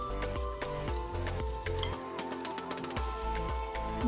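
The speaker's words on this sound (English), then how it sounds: "first goes my sugar, then the oil, and I'm going to whisk this together" A whisk beats sugar and oil together in a bowl for an eggless chocolate cake. It gives quick, rhythmic metallic clinks and scrapes over steady background music.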